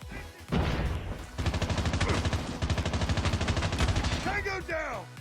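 Rapid automatic gunfire in Call of Duty Mobile while shooting an enemy: a burst after a short pop, then a long sustained string of close, punchy shots, with brief game voice or effects near the end.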